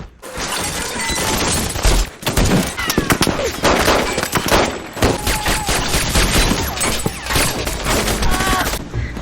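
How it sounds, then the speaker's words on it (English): Dense, loud gunfire from a movie shootout at a house, rapid automatic bursts and shots with breaking debris, sustained and close throughout with little pause. "the men open fire on the house"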